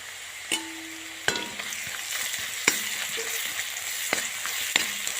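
Onion fries in a pan with garlic cloves, green chillies, ginger and turmeric, giving a steady close sizzle punctuated by a few sharp metallic spoon taps against the pan.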